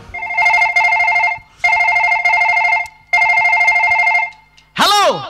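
A telephone rings in three long bursts of trilling bell tone separated by short pauses, loud and close, followed by a brief swooping electronic sound at the end.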